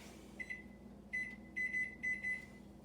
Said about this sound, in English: let me set a timer